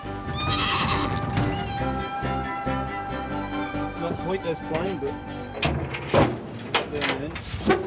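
A horse whinnies loudly up close, with several more neighs and snorts following, while hooves shuffle and a voice speaks briefly. Foals and horses in Scotland.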